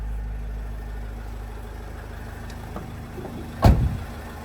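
A 2010 Renault Trafic van's 2.0 diesel engine idles steadily with a low, even rumble, then a brief louder knock or thump near the end.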